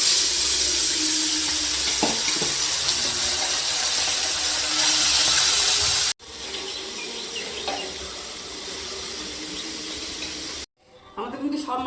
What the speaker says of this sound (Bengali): এইভাবে বাকি মাছগুলো ভেজে নেব, একই তেলে বাকি মাছগুলো ভেজে নেব।